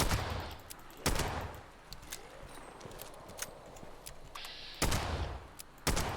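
Gunfire in the video game Fallout 76 comes as a few sharp, widely spaced shots with brief bursts of crackle between them, moderately loud over a faint background hum.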